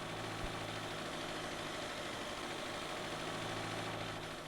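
A Rover 100 engine with a KIF carburettor runs at fast idle with the choke pulled. It holds a steady, loud, continuous drone and hum with no change in speed, close up and alone.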